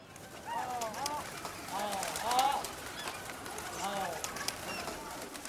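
Domestic pigeons from breeders' flocks on Delhi rooftops make repeated soft cooing and calls at moderate volume against a light outdoor background.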